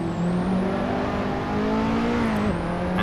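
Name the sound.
race car engine revving in video game Assetto Corsa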